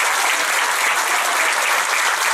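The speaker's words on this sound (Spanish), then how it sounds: "Apláudele fuerte al Señor" A church congregation claps loudly and steadily, dense sustained applause filling the space from start to finish with no talk over it.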